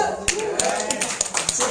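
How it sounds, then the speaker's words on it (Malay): An audience claps hands in a brisk, uneven patter of sharp slaps for under two seconds, loud and close, with talking mixed in. "Tepuk tangan dulu."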